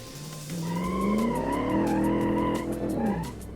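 A 1956 Silverton concept car skids into a guardrail, its tires squealing in a long, loud, wavering screech over a low engine rumble that rises and then fades out near the end.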